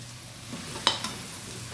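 Chilli, coriander and turmeric powders sauté in a pan for a chicken curry, a quiet low sizzle with a couple of sharp scraping clicks of a spoon stirring partway through.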